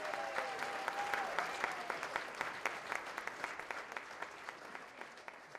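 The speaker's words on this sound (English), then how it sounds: "a round of applause for our next honoree" Applause at a school district awards evening honoring stars, steady crowd clapping with distinct individual claps standing out throughout, moderately distant and without talk.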